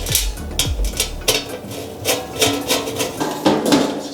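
Cover of an electric home deep fryer set on top and screwed on at the bottom, giving a series of close plastic and metal clunks and knocks in an uneven rhythm.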